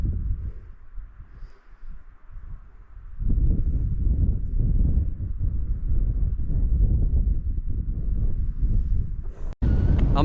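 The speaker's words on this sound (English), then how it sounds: "it's still blowing a gale up here" A strong gale batters the open mountain ridge at Crinkle Crags, buffeting the microphone with loud, gusty low rumbles that swell and ease, the heaviest gusts coming after a calmer start.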